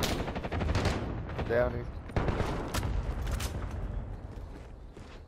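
Gunfire rings out in the video game Duo Quads on the Rebirth map, a few sharp bursts over a running background while a player talks over the shooting.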